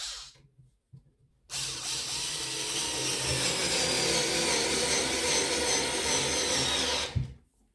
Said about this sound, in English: I will start with a smaller screw.